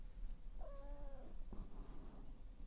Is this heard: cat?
yes